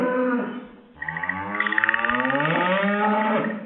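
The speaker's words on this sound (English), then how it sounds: "Ma'am, there's a cow in the room." A cow moos with a long, drawn-out, low bellow that rises in pitch and stays loud and close throughout, with no talk over it.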